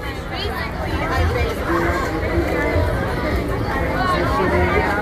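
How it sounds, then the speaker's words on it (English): A huge crowd of climate strike marchers fills an outdoor street in Southeast Portland with a steady, dense babble of overlapping voices and chatter, continuous and fairly loud throughout. "It's a huge crowd."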